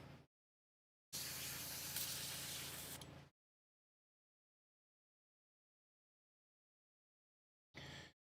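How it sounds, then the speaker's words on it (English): An airbrush being cleaned sprays in a steady, close hiss lasting about two seconds, with a short burst before it and another near the end, surrounded by silence. "So, okay, clean out the airbrush."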